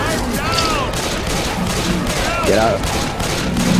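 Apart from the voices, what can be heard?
gunfire in the video game Left 4 Dead 2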